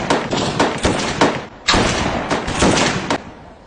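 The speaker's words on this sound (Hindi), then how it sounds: "5 राउंड ग्रुप फायरिंग।" Rifle shots ring out in a five-round group during Indian army training, a loud, close series of sharp reports that come in quick succession and echo between them.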